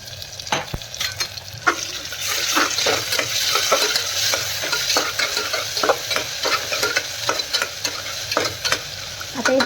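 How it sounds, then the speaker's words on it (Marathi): Ginger garlic paste frying on a low flame, a steady close sizzle broken by repeated scraping stirs at an irregular rhythm, continuous and fairly loud with no voices. "आता हे छान मंद आचेवर 5-10 मिनिट फ्राय करून घ्यायचं, म्हणजे अद्रक लसणाचा कच्चेपणा निघून जातो."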